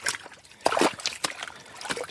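Produce soaking in cold sanitizer water gives off short splashes and trickles, a few sloshing bursts of moving water nearby with brief pauses between them.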